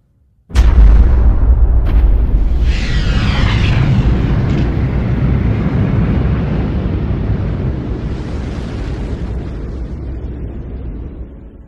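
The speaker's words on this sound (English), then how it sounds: "Massive stars end explosively." A massive, sudden explosion for a supernova bursts in loudly, then rolls into a long, deep rumbling roar that slowly fades.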